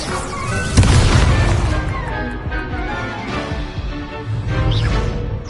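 Incendio fire spell cast in a Harry Potter video game, a loud whooshing burst with a booming crash near the start, followed by a sustained roaring crackle of flames and a second swell toward the end.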